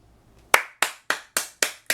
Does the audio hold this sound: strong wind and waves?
no